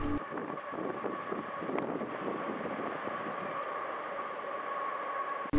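A steady low rumble of a passing mixed freight train, continuous and fairly distant, with wind noise across the microphone.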